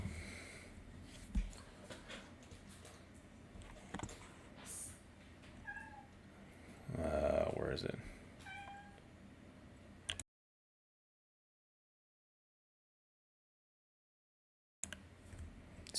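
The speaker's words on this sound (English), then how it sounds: "my cat is going crazy and scratching at the door" A pet cat meows a few times, with a louder cry near the middle, plus scratching and shuffling sounds, heard close by in a room. A brief voice speaks, and the sound cuts to near silence for several seconds before resuming.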